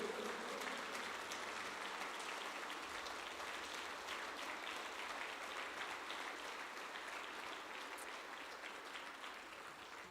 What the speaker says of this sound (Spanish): dale ofrenda de palmas a Cristo, dáselo fuerte a Cristo.